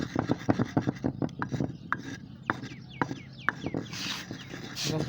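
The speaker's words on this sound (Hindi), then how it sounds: "मॉडर्न और एवल गोली को बिल्कुल बारीक पीस लेना है" Pigeon pills are ground into fine powder with a rhythmic series of close, scraping rubs and grinding strokes, irregular and gritty, slowing toward the end.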